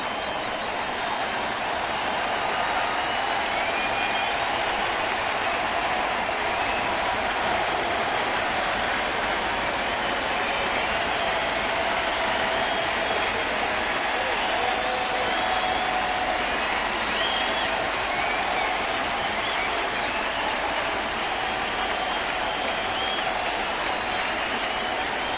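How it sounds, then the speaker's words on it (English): Large baseball stadium crowd cheering with the bases loaded in a Marlins at Cardinals game, a loud, continuous roar of applause and crowd noise sustained throughout. "Let's listen to this crowd with the bases loaded come alive."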